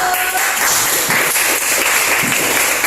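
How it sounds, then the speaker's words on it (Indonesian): Students applaud a group in a school classroom, a loud, close, continuous burst of clapping that stays even throughout without speech. "Beri tepuk tangan dulu."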